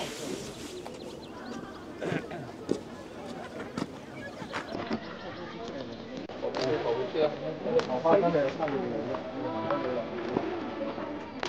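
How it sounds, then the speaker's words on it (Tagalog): Birds call and coo softly in the background beneath a steady murmur of people talking nearby. "Kahit madaming tao, maririnig mo yung mga ibon."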